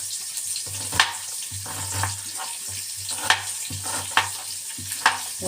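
Chopped onion frying in a pan and being stirred, with a steady sizzle broken by sharp spatula scrapes at irregular intervals, close and fairly loud, with no one speaking.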